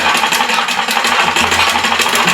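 Sewing machine stitching along the edge of a shirt collar: a steady, loud, close motor whir with a fast, even stitching rhythm running throughout, no talking.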